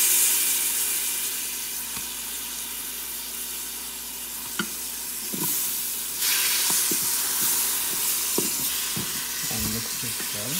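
Sliced tomato added to a chicken curry pan gives a steady, close sizzle and hiss, with scattered clinks and scrapes of a spoon stirring it in; no one talks.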